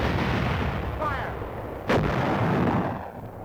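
A large artillery gun fires an explosive shell with a single loud, sharp blast partway through, set against a steady rumbling battlefield din in wartime ordnance footage.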